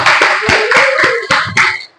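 A short burst of hand clapping from a small group in a classroom, several uneven claps fading out at the end.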